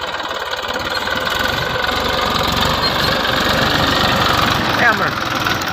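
A tractor engine runs at idle out in a farm field, a steady loud rumble with a rapid knocking pulse throughout, while people talk over it.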